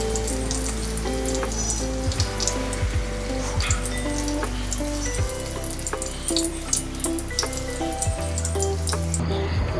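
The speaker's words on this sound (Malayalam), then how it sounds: "നല്ലവണ്ണം ഫ്രൈ ആയിട്ടുണ്ട് കോവയ്ക്ക" Ivy gourd pieces fry in hot oil, a close, continuous sizzle with bubbling and spattering, overlaid by a steady background hum and occasional clinks, no talking.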